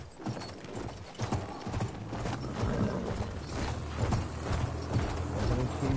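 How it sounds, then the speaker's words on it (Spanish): Horse hooves pound in a rapid galloping rhythm in the video game Battlefield 1, loud and continuous with clattering mechanical game noise mixed in. "¡Muévete, ahora, caballo!"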